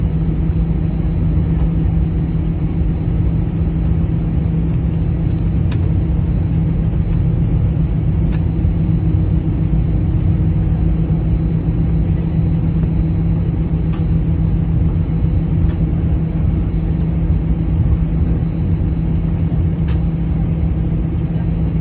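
Steady, loud roar of an AirAsia Airbus A320-200's engines during takeoff from Bintulu to Kuching, a continuous low cabin rumble with a droning hum and occasional faint clicks.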